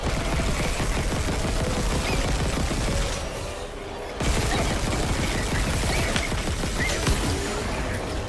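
Dense, continuous gunfire from in-game weapons in the Dead Space Remake, with rapid overlapping shots and crashes at a steady loud level, a short near-silent dip midway, then the barrage resuming.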